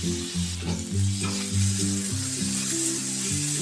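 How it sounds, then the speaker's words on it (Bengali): Gobindobhog rice fries with cashews and raisins in a pan, a bright steady sizzle over a low stepping tonal drone. "ওই কড়াতে আমি গোবিন্দভোগ চাল ধুয়ে একটু ভিজিয়ে রেখেছিলাম ভেজে নিচ্ছি"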